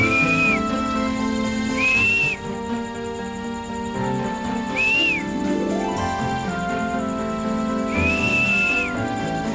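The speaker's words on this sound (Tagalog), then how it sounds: "Matilde, kapag may narinig kang sipol mamaya sa paligid mo, ako yun." A man whistles a short rising-and-falling call several times, each whistle brief and clear over a steady musical score, in a 1998 Filipino television drama.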